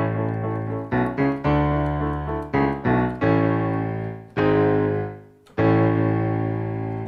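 Piano playing the closing chords of a song, a series of struck block chords with short pauses between them, then a final sustained chord left ringing and slowly decaying, solo and close.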